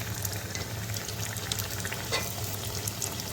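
Savory cheese-filled beignets frying in hot oil in a pan, a steady dense sizzle and bubbling with small scraping clicks as they are turned, close and continuous, no talking.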